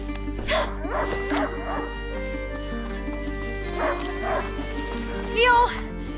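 A hunting dog in the video game A Plague Tale: Innocence gives a few short yips and barks near the start, then another bark and a whimpering whine toward the end, with game sounds in between.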